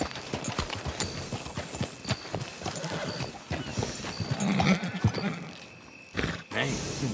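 Horse hooves clip-clop in a Western video game set around the town of Tumbleweed, a steady trotting rhythm at close range mixed with other game sounds and talking.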